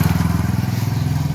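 A motorcycle approaches with a steady, loud low engine drone and rapid rhythmic pulsing, close by and continuous throughout, with faint background voices.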